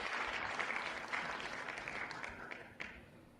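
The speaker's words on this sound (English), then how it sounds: "I like the clapping and hooting in the background." Clapping and hooting sound effect at a kayak tournament awards show, a faint crowd applause bed with scattered claps fading slightly toward the end.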